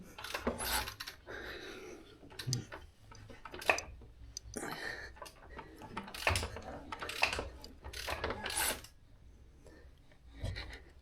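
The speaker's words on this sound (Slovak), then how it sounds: "Otáčame račňou v smere hodinových ručičiek, čiže doprava." Ratchet clicks come in short repeated bursts as the cam is turned on a 2019 Triumph Tiger 1200 XCA engine during cam chain timing work, up close and moderately loud, with someone talking between the bursts.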